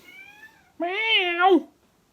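A cat lets out a faint short meow, then a louder, drawn-out meow with a rising and falling pitch, close and clear against silence.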